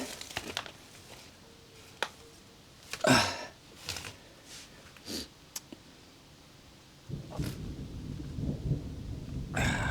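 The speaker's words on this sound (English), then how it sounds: "Yes, thunder." Thunder on a Finnish farm rolls in several separate rumbling bursts, some sharp and louder, others distant and faint, ending in a longer low grumble.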